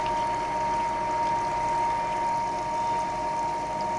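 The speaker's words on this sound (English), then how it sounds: "Okay, coolant on. Switch the motor on." Coolant from a Ward 2DS lathe's pump flowing onto the work, a steady watery gush and trickle over a constant motor hum with a faint whine, even and close.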